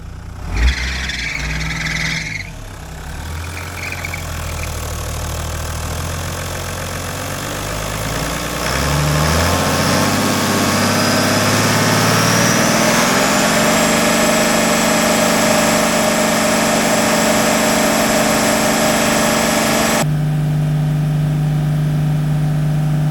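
A flood-damaged Toyota LandCruiser HDJ100 diesel engine idles steadily and fairly close, a continuous low rumble with a faint knock, the pitch rising slightly partway through before settling into an even idle.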